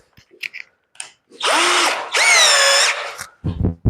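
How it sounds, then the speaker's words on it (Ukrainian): A cordless screwdriver drives screws into wooden bars while building a seedling frame, giving two loud whirring bursts that rise and slow with a winding pitch, set between scattered handling clicks, close up and with no talk. "Беремо нашого шуруповертика."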